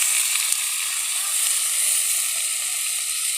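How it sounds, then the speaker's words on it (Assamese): Onion, drumstick, potato and tomato frying together in a pan, giving a dense, even hiss of sizzling oil with a faint clink near the start, steady and close, no speech. "পিঁয়াজটো মই অকণমান ভাজি ল'ম"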